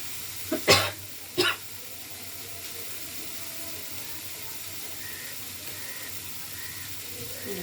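Water splashes into a hot pan of mushroom masala in two quick bursts, followed by a steady, close sizzle and bubbling that continues evenly to the end.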